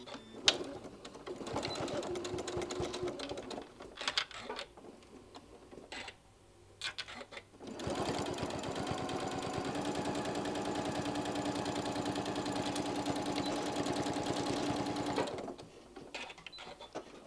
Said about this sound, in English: I'm just going to sew that little opening closed about 1/8 of an inch right there along that edge